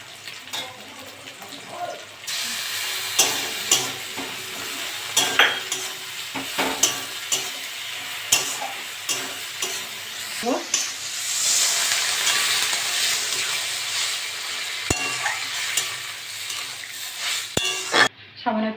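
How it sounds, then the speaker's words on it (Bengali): Mustard paste is stirred into a sizzling pan of taro stolons and shrimp: a spatula scrapes and clatters against the pan in uneven strokes over a constant frying hiss, which swells louder midway. "এবার আমি সর্ষে বাটা দিয়ে দেবো।"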